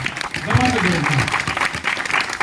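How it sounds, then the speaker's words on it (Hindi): Audience applause for women's power at a celebration in Gurgaon, Haryana, a lively round of clapping mixed with voices and cheering from the crowd over a couple of seconds. "नारी शक्ति के लिए ठोको एक बार जबरदस्त तालियां"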